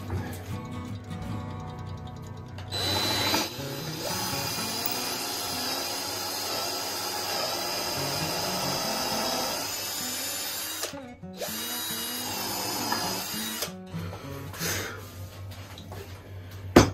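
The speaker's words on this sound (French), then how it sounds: "Pareil, je perce un trou." A power drill runs through wood while a mobile workbench is being built. The motor whirs steadily and fairly loudly, with two short stops and restarts along the way.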